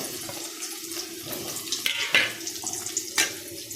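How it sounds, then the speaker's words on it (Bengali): Large pieces of potato fry in hot oil in a wok, giving a steady close sizzle with a few sharper crackles and pops. "তেল গরম হয়ে গেছে, আমি এই যে আলুটা ভেজে নিচ্ছি।"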